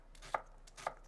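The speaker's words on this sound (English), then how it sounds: "Roughly chop the onions." A knife roughly chops onions on a board, giving two sharp, distinct chops about half a second apart over quiet background.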